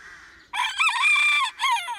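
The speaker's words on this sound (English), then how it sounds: "nothing wrong with your crow anyway, is there?" A rooster recovering in the hospital area of an animal sanctuary crows loudly and close by, one long drawn-out call followed by the start of another.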